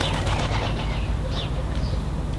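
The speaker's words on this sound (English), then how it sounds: "And obviously the birds are wanting a shower as well." Birds coo softly beside a newly set up GoPlus solar shower outdoors, their calls faint against a steady wash of wind and outdoor background noise.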